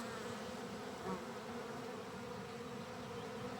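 Honey bees hum around a hive frame during swarming, a constant low droning buzz of many insects heard close and fairly quiet, with no talk over it.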